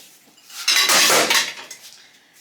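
Dishes, pots and cutlery set down in a kitchen sink, a short cluster of clattering metal and ceramic clinks rising to a loud burst around the middle and then fading, close by with no voices.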